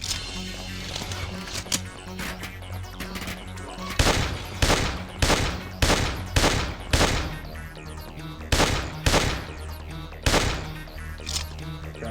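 A pistol fires in an FPS Creator shooter, a dozen or so loud, sharp shots in an uneven rhythm. Sparse single cracks come first, then quicker clustered rounds over a low ambient background.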